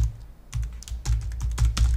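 Computer keyboard keys tapped in a quick, uneven burst of close, crisp clicks while a password is entered, no voice.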